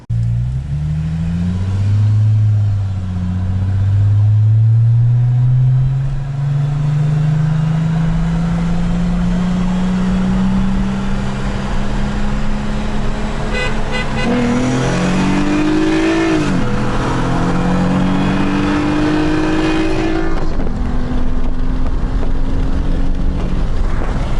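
BMW 335i race car revving hard through the gears from a 30 mph roll, its engine note climbing in steady pitch sweeps with quick shift breaks, loud and close with a raspy burned-muffler exhaust throughout.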